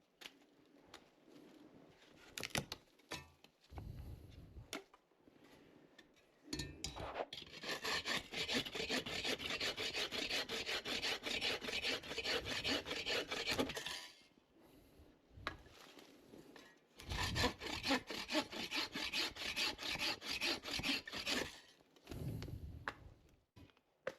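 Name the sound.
Agawa folding saw cutting wood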